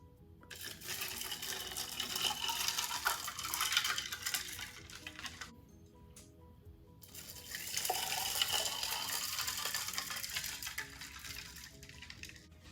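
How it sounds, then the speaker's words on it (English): Strawberry lemonade poured into ice-filled mason jars, two long splashing pours separated by a short pause, with liquid trickling and ice faintly clinking, close and moderately loud. "So now we're going to pour in our strawberry lemonade."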